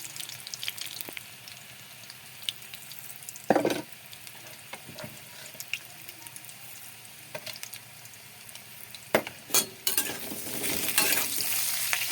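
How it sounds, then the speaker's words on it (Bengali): Banana pieces fry in hot oil in a wok, a constant close sizzle broken by clattering stirs and scrapes of the utensil, with a louder burst of bubbling near the end. "তেলটা গরম হয়ে গেছে। কলাগুলো ভেজে নেব।"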